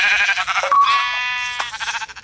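A sheep in the Minecraft video game bleats loudly and close, with a wavering, nasal bleat of about two seconds, heard alone without talk.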